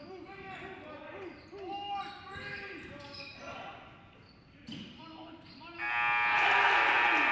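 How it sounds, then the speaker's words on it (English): A buzzer sounds in a high school boys' varsity basketball gym at the end of the first half, a loud sustained tone in the last seconds, rising over crowd noise, sneaker squeaks and the play-by-play commentator's voice. "Nolan Grant at the buzzer with a 3 ball"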